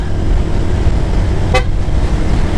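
A single short car horn honk sounds over steady, loud road and engine noise, close by.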